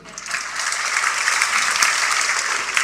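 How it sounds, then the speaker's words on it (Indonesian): Sustained audience applause fills a church, steady and fairly loud from start to finish, with many hands clapping at once and no clear voices above it. "Tepuk tangan."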